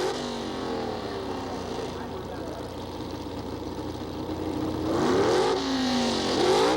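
Drag race cars launch at a 1970s NHRA meet, one a modified 1974 Vega facing a dragster, their engines building from a steady roar into rising, wavering revs, loud and close.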